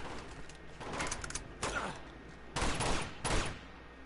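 Gunfire in Uncharted 2: Among Thieves comes in several loud, distinct bursts of shots separated by short gaps, with some mechanical clatter in between.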